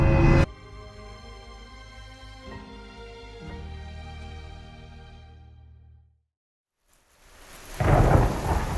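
Thunder rumbles loudly as a storytelling sound effect, fades into a short silence, and then heavy rain sets in with a hiss.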